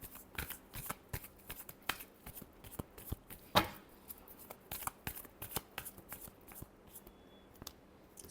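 Tarot cards are shuffled by hand in quick, crisp riffles and taps, close and fairly quiet, with one sharper slap partway through.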